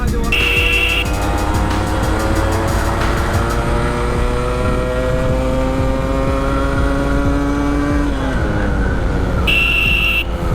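Yamaha RX115 motorcycle engine running steadily while riding, a loud continuous drone with strong tonal harmonics that hold level and then dip near the end as the revs drop.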